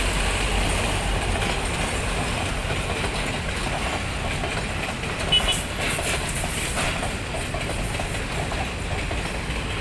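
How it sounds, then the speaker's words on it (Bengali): A train rolls into a station in Colombo, Sri Lanka, with a steady, loud rumble and clickety-clack of the rail cars that continues without a break. "অলরেডি ট্রেন চলে আসছে।"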